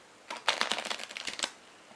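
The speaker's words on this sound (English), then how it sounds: "I can shuffle the cards," A quick, close riffle of playing cards being shuffled, a rapid flutter of snapping cards lasting about a second amid quiet.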